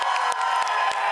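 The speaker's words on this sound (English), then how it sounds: "keep clapping until I'm done laughing" A studio audience at a late-night talk show claps and cheers in a dense, steady roar, with a few brief whoops rising above it throughout.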